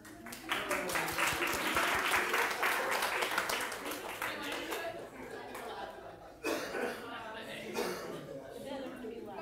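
A conference audience at a plenary session claps steadily for several seconds, with scattered coughs and murmurs, then the applause fades and a second smaller burst follows.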